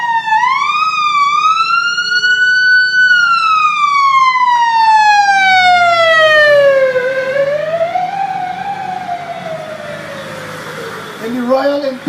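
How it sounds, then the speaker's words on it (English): A loud wailing siren sweeps slowly up and down in pitch, close by and continuous, with a fainter yelp near the end. "every time you hear a siren, somebody, somewhere, in pain."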